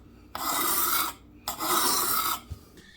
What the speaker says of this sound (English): Whetstone, keeping it sharp.